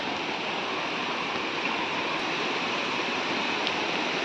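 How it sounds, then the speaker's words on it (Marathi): A fast stream rushes through a deep valley near Tike village in Ratnagiri, a steady loud broadband wash of flowing water that continues unbroken with no voices. "मंजूळ पाण्याचा आवाज झुळझुळ वाहे पाणी"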